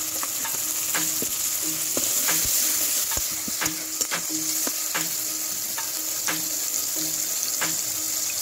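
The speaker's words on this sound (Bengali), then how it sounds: "এবার টমেটো কুচিগুলো দিয়ে দেবো। একটু নুন দিয়ে দিলাম।" Chopped tomatoes and salt sizzle steadily in hot oil with dry red chilli, with regular scraping and clinking stirring strokes audible over the constant frying hiss.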